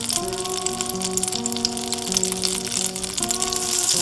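Butter and extra virgin olive oil sizzle in a pan on high heat, a steady, even crackle running for the whole stretch beneath a clear background music melody.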